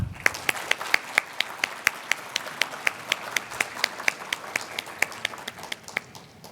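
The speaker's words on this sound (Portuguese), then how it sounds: "Palmas com gratidão para ele." Audience at a property registry officers' conference clapping in a steady, evenly spaced rhythm, crisp distinct claps close by with no voices over them.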